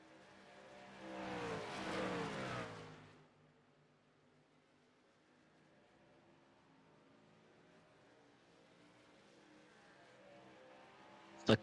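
A pack of racing trucks roars past on the Talladega tri-oval in a sim racing game, engines swelling loudly for a couple of seconds. Then they fade to a faint, distant hum, and a sharp click sounds at the very end.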